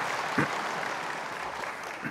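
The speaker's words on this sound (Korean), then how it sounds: "여러분 박수 쳤는데" A church congregation applauds, a dense, steady wash of clapping filling the room evenly from start to finish.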